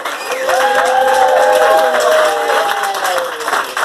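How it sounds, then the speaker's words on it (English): A protest crowd outside Southall Town Hall applauds and cheers, a dense, steady wash of clapping with raised voices ringing through it, loud and close throughout. "a massive clap to every single person"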